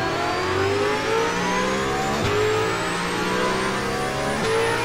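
Corvette engine revving hard at a race start in Assetto Corsa, a steady loud drone with rising pitch as it accelerates, other cars running alongside.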